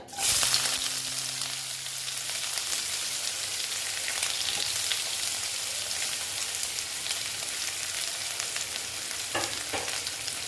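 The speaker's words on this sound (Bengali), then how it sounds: "পেঁয়াজ দিয়ে পেঁয়াজটাকে একটু ভেজে নিচ্ছি" Onions frying in hot oil in a pan, a loud, dense, continuous sizzle that starts abruptly as they go in and holds steady, with faint stirring scrapes, close up and without talk.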